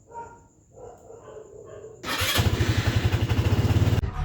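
A Rusi RFI 175 motorcycle with a corroded ignition switch cranks briefly, then starts, settling into a loud, close, pulsing idle.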